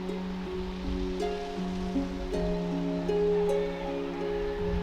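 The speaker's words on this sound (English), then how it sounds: "there's somewhere a little river you can hear." A small river flows somewhere below cultivated terraces in Madeira on a rainy day, a faint, steady rush of water heard under droning tonal hum, with no talk.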